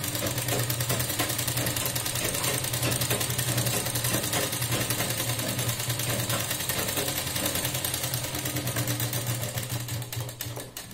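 A sewing machine stitches a blouse, running in a fast, even mechanical rattle that stays loud and close throughout before easing slightly at the end, with no talking.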